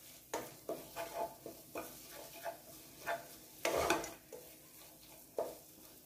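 Spices and Kashmiri chili powder roast in a pan for dal tadka, with a soft sizzle beneath repeated scraping and knocking strokes of a spoon stirring, no voices.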